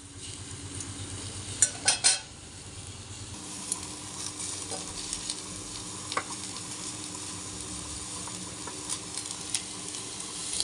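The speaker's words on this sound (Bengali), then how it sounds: "একটু এভাবে করে নাড়িয়ে চেড়ে নেব।" Spices stirred in a frying pan, a steady sizzle under repeated scraping and several sharp metal clinks of a spoon against the pan, near and fairly loud, with no speech.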